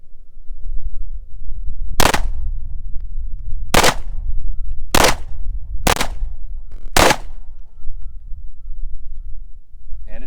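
A Glock 48 long slide pistol fires five steel-case rounds at an outdoor range, sharp loud reports spaced unevenly over several seconds against a low background rumble, with no speech.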